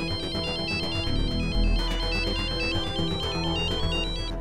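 A mobile phone ringtone plays loudly and continuously, a repeating electronic melody of bright beeping notes over a music bed, with no talking.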